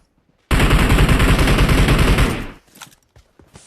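Sustained automatic gunfire in a competitive team shooter match, loud and close, running as a dense rapid burst for about two seconds before ending in scattered fainter shots.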